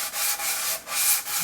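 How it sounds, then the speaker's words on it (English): Close, rhythmic strokes of sandpaper rub along the edges of a 1973 Fender Stratocaster wooden body during refinishing, in four or five even back-and-forth passes with no talk. "And since watching sanding is pretty boring"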